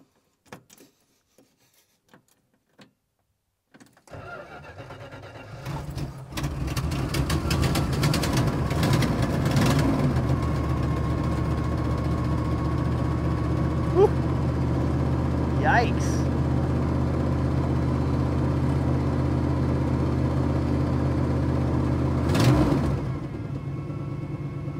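A Dodge 440 engine in a Cobra camper cranks and catches after a few clicks, then settles into a loud, steady rumbling idle with occasional revs, as people talk over it.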